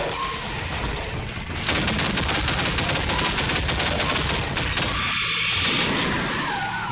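Gunfire in the video game Half-Life 2: Episode Two rattles in loud, continuous rapid bursts for several seconds, dense and unbroken, with no talk over it.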